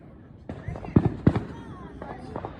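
5-inch mortar fireworks bursting outdoors, several sharp booming cracks in quick succession, loud and fairly near, with people talking between the blasts.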